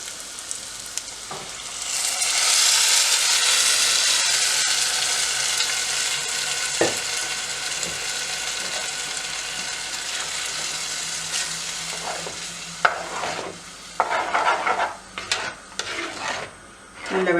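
Onions softened in a pan for mor kulambu, then stirred with a mixing paste: a steady close sizzle of frying runs throughout, with scraping and clattering of the spoon against the pan building toward the end.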